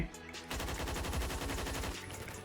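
An AUG A1 rifle in the video game Phantom Forces fires a rapid, evenly spaced automatic burst of about a second and a half, loud and close, after a brief quiet lead-in.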